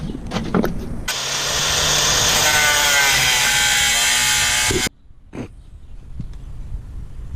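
An oil filter being sliced with a power cutting tool, a loud steady high-pitched grinding whine lasting about four seconds that stops abruptly, with a few short clanks and knocks before and after.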